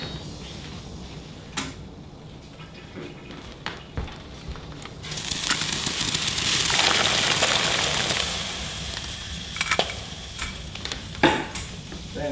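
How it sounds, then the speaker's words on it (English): Acorns steeping in water in a pot on a stovetop get stirred, a swirling, sloshing wash that rises in the middle, with scattered knocks and clatters around it. "Give it a stir."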